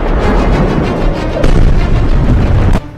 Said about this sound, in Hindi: ईरान और इजराइल की जमीन धमाकों से धधक रही।